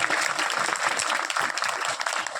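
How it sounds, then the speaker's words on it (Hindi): A lively crowd claps loudly and thickly at a village poetry gathering (kavi sammelan) in Phuljhar, keeping a busy, steady texture of many hands throughout. "मैं चाहता अपन सम्मान में एक बार आप सब जोरदार तालियां बजाए"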